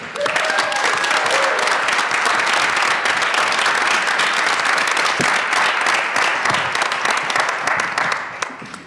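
Sustained, dense audience applause fills the whole stretch at a Boulder City Council arts forum in 2019, steady and loud with no voices rising above it.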